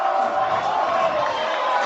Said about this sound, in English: the crowd gets into it here on 4th and goal